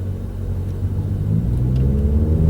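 A car with a manual six-speed gearbox accelerates hard in first gear, its loud engine rumble building steadily in pitch and strength with no talk over it.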